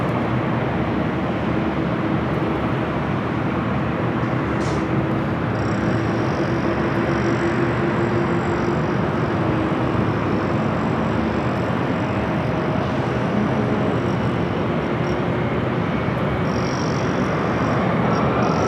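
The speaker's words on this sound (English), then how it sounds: "Delta A350 heading to Atlanta" A Delta Airbus A350 heading to Atlanta at LAX gives off a continuous, moderately loud jet rumble and whine that holds steady from start to finish, alone with no talk.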